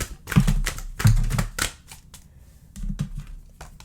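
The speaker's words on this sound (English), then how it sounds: "first I'm going to be shuffling from this Oracle card deck right here" An Oracle card deck is shuffled by hand, quick crisp riffling bursts of cards in a few short clusters, close and fairly soft, separated by brief pauses.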